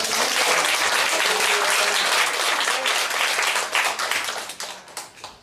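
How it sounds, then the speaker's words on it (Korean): Congregation in a Korean church applauding in worship, a loud, dense burst of clapping that holds steady for several seconds, then thins into scattered claps and fades. "다시 한번 하나님께 모든 영광의 박수를 올려드리십시오."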